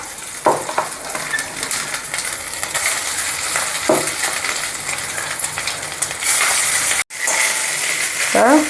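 Cooked rice is stirred and tossed in a pan for a curry leaf powder rice dish. Scraping strokes and a soft sizzle continue steadily, with a few sharper knocks of the utensil against the pan and no talking.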